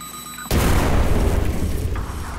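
A bomb detonates in the Liberated video game: a sudden, loud blast that swells into a heavy, sustained rumble filling the rest of the moment, with no voices over it.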